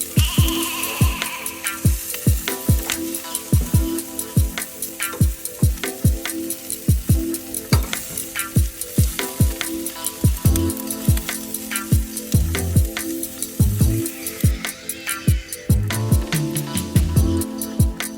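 Turkey wings seasoned for a honey Old Bay glaze sizzle steadily on a smoker grill as they brown, a loud, continuous crackle with frequent sharp pops and spits close up.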